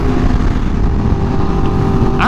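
A Yamaha R1M sport motorcycle engine revs hard with a loud, steady high-pitched drone held close by, ending in a brief sharper burst, with no talk.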